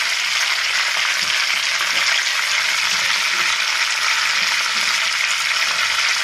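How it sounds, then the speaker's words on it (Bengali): Two bay leaves sizzling in hot oil in a pan, giving a loud, continuous, even hiss of frying up close with no talking. "আমি এই তেলেই সব কিছু দিয়ে দেবো। এই যে 2টো তেজপাতা নিয়েছি, তেজপাতা দিয়ে দিচ্ছি"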